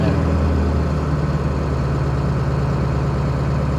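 A Ford 7.3 Powerstroke diesel engine runs at high idle, a steady, loud low rumble with an even mechanical drone that holds constant throughout, with no talking.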